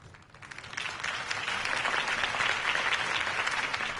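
Crowd applause in the video game Batman: The Telltale Series, a dense, steady wash of clapping that swells in over the first second and holds loud and even to the end, with no talk over it.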